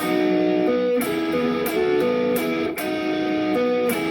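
A short electric guitar riff with plucked, ringing notes repeated in a steady pattern, played alone and clearly up close.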